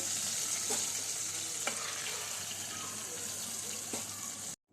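Ghari, the Surat sweet, deep-frying in a pan of hot fat, a steady moderate sizzle with a few sharp clinks of a utensil against the pan.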